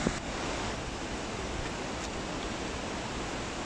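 Steady broadband roar of a waterfall at Cham near Chinari, reached by built stone steps, a continuous rushing wash of falling water filling the scene with no pauses and no voices.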